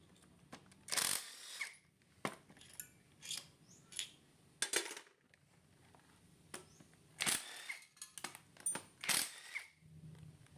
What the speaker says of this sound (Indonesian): kita lepas untuk baut susukan blok head yang menuju ke belakang menggunakan kunci 10